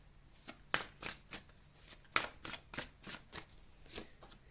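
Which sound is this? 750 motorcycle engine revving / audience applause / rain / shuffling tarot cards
shuffling tarot cards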